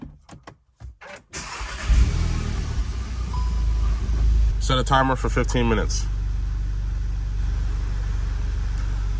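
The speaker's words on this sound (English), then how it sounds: "I'm gonna let my engine idle." An Acura TLX engine cranks, catches and settles into a steady, close, low idle during a LiquiMoly engine flush, with someone speaking over the running engine.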